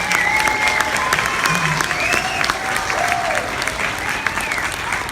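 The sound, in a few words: audience applause after a children's concert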